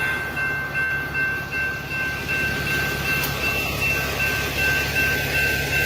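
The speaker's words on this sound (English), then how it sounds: "I don't know where the rest of the train is" A train rolls along railroad tracks at a crossing, a steady loud rumble with a sustained tonal whine and a short sharp clank partway through, no talking.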